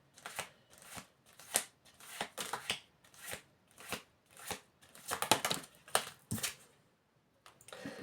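Tarot cards are shuffled by hand close up, a run of quick crisp riffling bursts in an uneven rhythm, fairly quiet with no talk.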